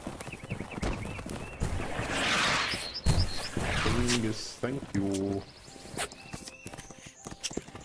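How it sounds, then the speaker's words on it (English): Horse hooves clip-clopping at a steady trot amid a busy Holdfast: Nations at War line battle soundscape, with voices talking over the hoofbeats and scattered background effects. "Horses."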